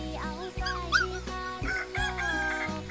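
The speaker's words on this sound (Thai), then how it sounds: "ไก่" Chickens and a rooster cluck and crow close by at a traditional Lahu livestock homestead in the forest, with overlapping calls and short rising squawks over a steady background.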